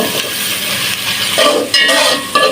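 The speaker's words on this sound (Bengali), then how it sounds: "পেঁয়াজ ব্রেসটা করে নিচ্ছি লাল লাল করে ব্রাউন করে পেঁয়াজটাকে ভেজে নেব" Onions frying in a pan for chicken biryani, a close, continuous sizzle with stirring scrapes and occasional brighter crackles throughout.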